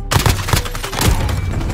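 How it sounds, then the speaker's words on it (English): Cluster strike explosions in a video game land as a rapid, loud series of booming blasts and crackling bursts, close and dense over a couple of seconds, with no speech. "Enemy cluster strike incoming."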